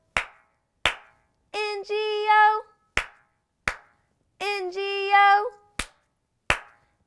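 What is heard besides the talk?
two hand claps in the Bingo nursery rhyme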